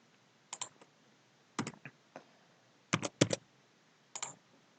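Bursts of typing on a computer keyboard, short clusters of crisp key clicks separated by pauses, close and fairly quiet with no talking.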